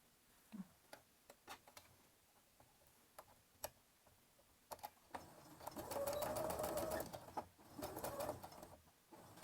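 A sewing machine runs in a steady burst of stitching, stitching fabric for a rabbit's overalls, preceded and followed by scattered ticking clicks and handling noises at close range.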